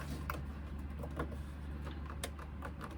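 A sewing machine stitching a seam on a sling, with a steady mechanical whir and faint rapid ticks throughout, close and moderately loud.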